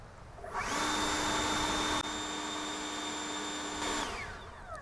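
A Greenworks leaf blower runs on turbo mode, spinning up to a steady, loud high-pitched whine and roaring airflow for a few seconds, then winding down near the end.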